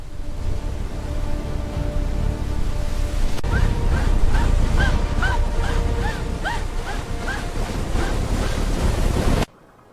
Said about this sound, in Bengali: একদিন হলো কি গভীর রাতে হঠাৎ ঝড় উঠল